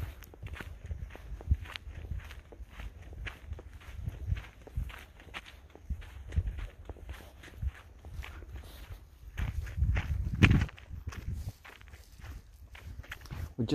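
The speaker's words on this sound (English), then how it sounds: "Sound of the sand, sound of your feet hitting the rocks," Footsteps crunch over sand and rocks on a forest walk, a steady close stride of scuffs and taps with a brief heavier patch of steps partway through, quiet outdoor ambience around them.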